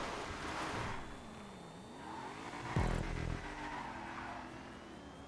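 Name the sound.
Bentley V12 car engine in GTA Online video game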